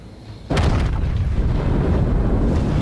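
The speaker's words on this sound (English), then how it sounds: "He dodged those torpedoes, but he's also going to dodge this salvo." In the World of Warships video game, a battleship fires its main guns in a salvo, one sudden heavy boom followed by a loud rumbling roar that carries on to the end.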